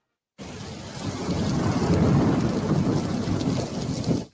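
Steady rain with rumbling thunder, used as a sound effect in a radio advertisement about chimney care, fills the clip loudly and continuously after a brief silent start, with no voice over it.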